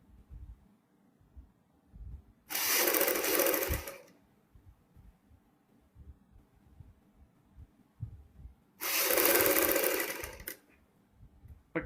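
A sewing machine stitches the second side of a V-neck on a garment in two short bursts of steady whirring, each lasting about one to two seconds, with quiet handling sounds between them.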